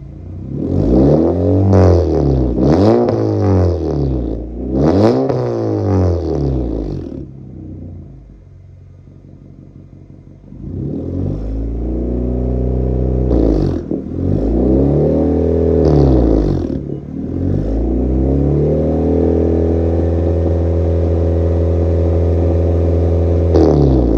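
A turbocharged car engine, idling for 10 to 15 minutes with a smoking problem, rumbles steadily, revving up and down in repeated swells with a brief quieter lull, close and fairly loud.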